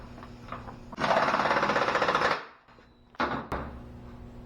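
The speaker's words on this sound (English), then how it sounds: "And retighten our nut." A motorcycle axle nut is retightened in a shop after a chain adjustment: a loud, fast rhythmic ratcheting burst lasting about a second and a half, followed by a pause and a shorter second burst.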